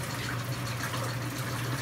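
Water pouring steadily into an off-grid washing machine during a laundry cycle, a soft, continuous splashing rush with no break, heard close and fairly quiet.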